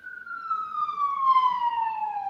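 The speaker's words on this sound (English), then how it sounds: "siren on my end." A police siren wails in a single long, clear tone that slowly falls in pitch, moderately loud and steady with nothing else audible.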